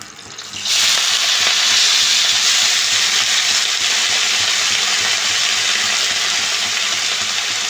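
Radish greens hit a hot pan and fry with a loud, steady hiss that bursts in suddenly and continues sizzling evenly at close range, with no talking.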